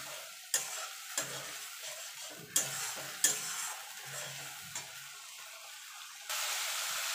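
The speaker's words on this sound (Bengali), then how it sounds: "কষিয়ে নেবো যতক্ষণ মশলা থেকে তেল না ছেড়ে আসছে।" Spice paste sautéed in oil in a pan, soft sizzling under a series of sharp scraping stirs of a spoon, then a louder, steadier sizzle near the end.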